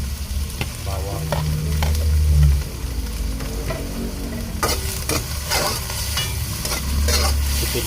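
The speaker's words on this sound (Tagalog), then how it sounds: "So lagay na natin ang" Garlic sizzles and crackles as it fries in a pan for sour soup, with scraping stirs and a loud burst of frying partway through, and no talking.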